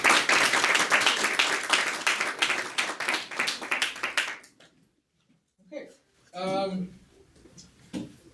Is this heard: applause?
yes